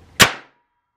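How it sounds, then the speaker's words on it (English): A hammer strikes a small pile of Armstrong mixture made from scraped match heads, setting off one sharp, loud crack like a cap gun, close by and quickly dying away into silence. "I'm gonna hit it with a hammer and show you."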